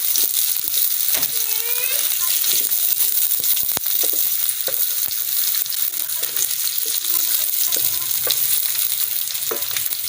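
Onion and ginger sizzling and frying in a hot pan for pork adobo, a steady crackling hiss with occasional stirring scrapes and clinks, while a person talks intermittently over the cooking.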